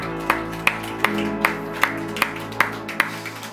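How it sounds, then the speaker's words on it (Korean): A church congregation claps together in a steady, evenly spaced rhythm of about eight claps. Sustained musical tones play softly underneath, and no one speaks. "우리 주님을 박수로 찬양하십시다"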